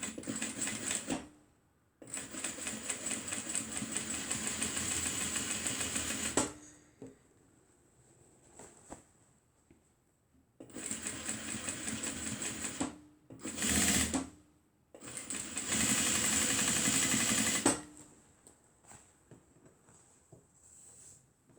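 Sewing machine back stitching while making a crossbody mini bag, running in several loud close bursts of steady rapid stitching separated by quiet pauses and faint handling sounds.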